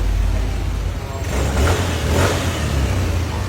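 A Yamaha Aerox or Nmax scooter engine revs at full throttle after a rain-related misfire fault was fixed, a loud, close, rising drone that surges twice before settling into a steady roar.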